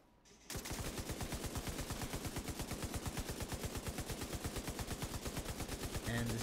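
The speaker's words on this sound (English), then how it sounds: "this gun is pretty accurate for an LMG, even at far ranges" Sustained automatic fire from a light machine gun in The Division: a rapid, even string of loud close shots that starts abruptly after a quiet moment and runs unbroken to the end.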